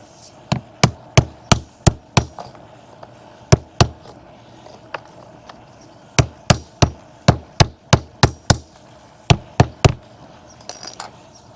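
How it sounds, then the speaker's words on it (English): Sharp hammer taps drive a siding corner trim board back into place, struck in quick bursts of three to six blows with brief pauses between, close and loud against a quiet background. "Get a hammer and tap that in."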